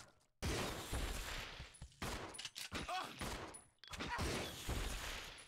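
Gunfire in Resident Evil 0, bursts of rapid, loud shots in three long volleys separated by brief pauses, close and harsh.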